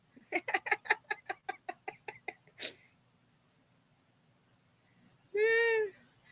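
A pet hen clucking nearby: a quick run of about ten short, evenly spaced clucks, a brief rustle, then a pause before one drawn-out, rising squawk, with no talk over it.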